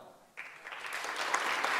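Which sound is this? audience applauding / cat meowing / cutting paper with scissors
audience applauding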